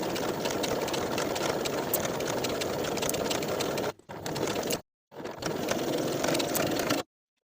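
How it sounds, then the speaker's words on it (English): Sewing machine stitching the shoulder seams of a quilted jacket, a steady close motor whir with rapid needle ticking that stops briefly twice for backstitching before running on, then cuts off. "Now we'll sew both shoulder seams from the outer edge to the tip of that previous stay stitching"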